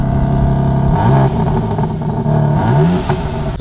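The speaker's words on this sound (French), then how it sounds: "tu nous montres un petit peu le bruit de cette petite M4 compétition" A BMW M4 Competition engine revs hard and loud, the pitch climbing and dropping through repeated throttle blips over a steady rumbling idle.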